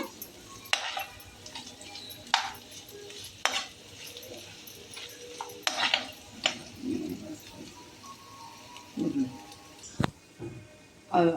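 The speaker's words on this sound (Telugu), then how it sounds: "కొంచెం మనం పచ్చివాసన పోయేలాగా వేయించుకుందాము" Ginger garlic paste fries in a pan while making a bitter gourd and egg dish, a soft low sizzle under occasional sharp clinks and scrapes of a spoon against the pan.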